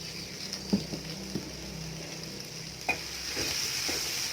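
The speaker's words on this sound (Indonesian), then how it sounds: "Kita tumis bumbunya sampai harum ya" Spice paste stir-fried in a pan for a bamboo shoot coconut-milk dish, a steady soft sizzle with a few sharp scrapes and clacks of a spatula, close and moderately quiet, no talking.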